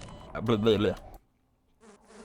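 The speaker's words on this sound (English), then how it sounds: "Is that bee just gonna camp there forever?" A bee in Half-Life buzzes close and loud for about a second, its wavering hum then cutting to silence before a fainter buzz returns.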